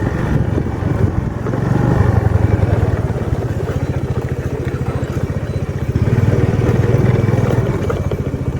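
A scooter rides toward Kanchanagiri Hills near Vellore, its small engine giving a steady, loud drone with a rattling pulse close by throughout, and no talking.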